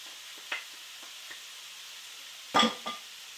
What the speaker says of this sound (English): I'm just going to give that a little bit of a stir to mix them up.